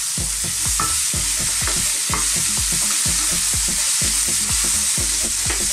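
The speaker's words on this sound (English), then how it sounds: "I'm going to add a few bean sprouts, which again we're just going to toss for a few seconds" Bean sprouts, broccoli and tofu tossed in a hot wok: loud, continuous sizzle with rapid rhythmic scraping and tossing strokes, close and unbroken for several seconds, no talking.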